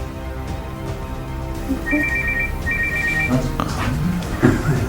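A mobile phone rings with a repeating electronic tone through a lively room, under background chatter and voices, its pattern sounding twice before the conversation continues over it.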